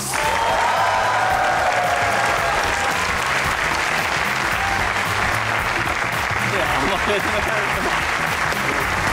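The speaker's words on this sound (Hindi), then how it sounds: "आपकी भरपूर तालियों में इमरान नज़ीर और वहाब रियाज।" Studio audience applause welcoming cricketers Imran Nazir and Wahab Riaz to a comedy talk show, steady dense clapping throughout with some whoops and voices mixed in.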